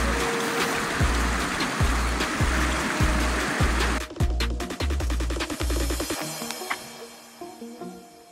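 Rushing water of the Little Salmon River near Riggins, heard alongside a series of regular low thumps in the first half, then a clattering, more broken texture as the flow continues.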